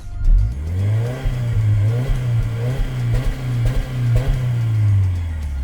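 A 2023 Subaru WRX with a 2.4-litre turbo engine revs repeatedly in steady, droning pulses, its mid-low engine note rising and falling several times, close and fairly loud, with no talking.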